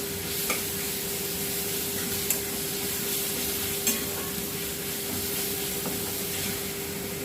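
Garlic and green chilli paste fries in a pan as it is lightly stirred, a steady sizzle with a low hum running under it and a few sharp scraping clicks.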